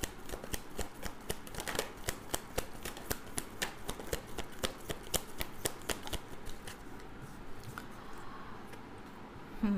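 Tarot cards being shuffled by hand, a run of crisp, rapid riffling snaps close up, repeating in quick bursts for most of the stretch before easing into softer rustling near the end, with no voices.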